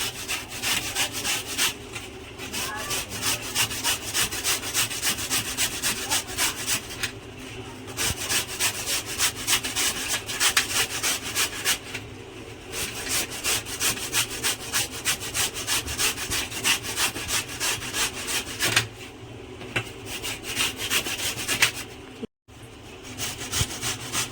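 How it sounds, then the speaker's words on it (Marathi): A pumpkin is grated by hand, producing fast, steady rhythmic rasping strokes in bursts separated by short pauses, close and clear throughout, with no talking. "आणि आता हे मी किसून घेत आहे"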